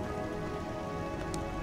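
Steady rain falls in Fallout 4 at a settlement with guard posts, a dense, even wash of patter that stays constant throughout with no voices over it.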